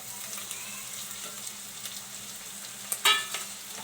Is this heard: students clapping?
no